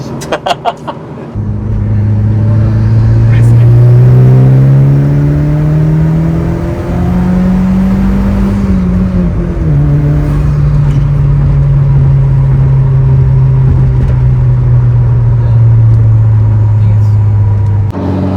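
A 1999 Mitsubishi Lancer Evolution V with about 200 wheel horsepower accelerating on the road: loud, close engine drone climbing in pitch through the gears, with a short shift dip and continued pull, heard from inside the car.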